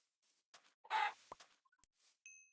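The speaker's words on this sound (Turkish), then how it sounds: "Burada da vardı tavuk." Chickens in the Minecraft survival game give several short, separate clucks and squawks, quiet and spaced apart, with small game sound effects between them and no one talking.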